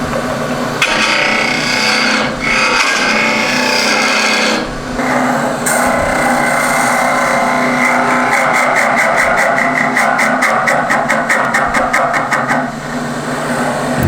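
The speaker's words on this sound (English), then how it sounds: "I'm going to bring the tool rest back into play so I can just with my spindle gouge get rid of a bit of this extra stuff here" Spindle gouge shearing away excess wood from a sphere turned on a lathe with the tool rest brought in, a steady loud rasping cut with short breaks and a fast rhythmic chatter near the end.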